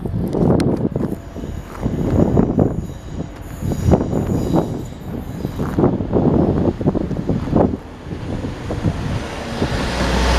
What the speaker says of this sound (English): Now departing is a double pairing of Trans-Pennines